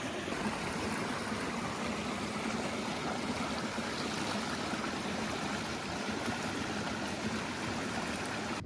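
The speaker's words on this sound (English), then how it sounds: "Look at this water source, guys." Steady running water at a trail water source about four miles out of Barrel Springs on the Pacific Crest Trail in California, a continuous close, even stream-like rush with no voices.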